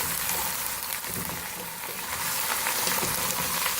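Cut potato and eggplant being stirred and fried together in a pan, a dense, even sizzle throughout with faint scraping of the spoon, no voices.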